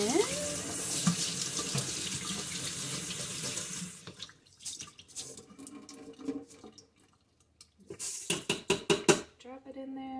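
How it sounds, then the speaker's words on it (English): A kitchen tap runs into a small strainer of brown rice, first a steady loud splashing stream, then, after the flow is cut, quieter trickles, drips and clattering as the grains are rinsed and shaken. "All I could find was my little strainer, but I am going to rinse."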